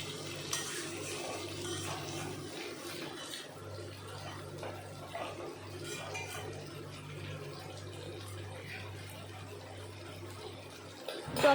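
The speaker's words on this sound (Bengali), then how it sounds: "মাংস বারে বারে নাড়াচাড়া দিতে হবে," Chicken curry being stirred in a pot, with soft scraping and sizzling textures running steadily throughout under a low background hum, fairly quiet and close.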